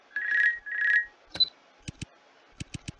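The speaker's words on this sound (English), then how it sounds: "Please allow me to pick up the phone." A telephone rings in two short electronic trills, followed by a sharp click and a series of brief handset clicks and taps as it is picked up, close and clear with no talk.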